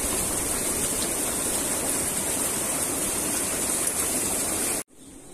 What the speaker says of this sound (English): put the bubbles on, let it all mix in